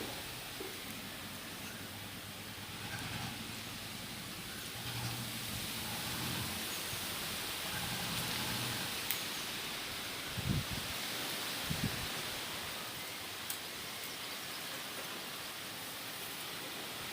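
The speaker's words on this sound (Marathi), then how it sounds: "खूप वारा सुटलाय." Strong wind blows outdoors in a steady, broad rushing roar, like rustling leaves or rain, with a few soft thumps near the middle and no talking.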